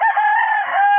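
A farm rooster kept among a flock of chickens gives one loud, close crow, a single sustained call lasting about a second with no other sounds around it.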